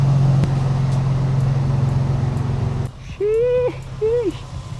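Nissan 350Z driven without its front bumper, a steady low engine hum and road noise up close, dropping away near the end as a voice briefly speaks.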